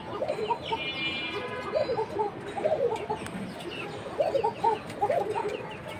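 A silver beji pigeon in a cage gives soft, repeated cooing calls in short rhythmic bursts over faint background noise.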